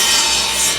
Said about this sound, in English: scoring some shallow grooves across the inside of the box